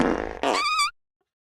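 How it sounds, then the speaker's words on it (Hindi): A loud, wet fart blasts close into a phone, one rasping burst lasting under a second before cutting to silence. "अपनी गांड के बाजू में रखना है और जोर से पादना है"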